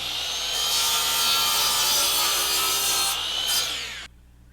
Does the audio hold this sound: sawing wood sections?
yes